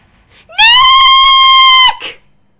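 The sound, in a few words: person screaming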